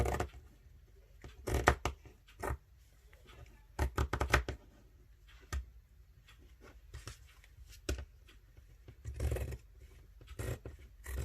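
Scissors cutting fabric for no-sew cloth wipes, with irregular crisp snips and scraping cuts in short clusters, close and moderate, no voices.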